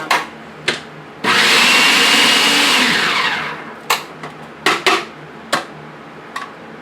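A food processor chops purslane stems for relish, running in one loud sustained burst of about two seconds, with short clattering pulses and knocks before and after it.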